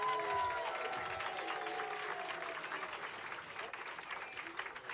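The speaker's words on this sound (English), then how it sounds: "Give her another round of applause." Steady applause from a crowd at a Bernie Sanders campaign lotería night with LULAC, sustained throughout and gradually thinning toward the end.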